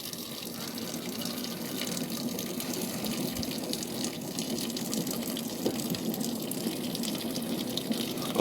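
Boiling water runs from a coffee machine into a pot while cooking pasta, a steady, soft hissing gush of liquid pouring continuously at close range with no talk.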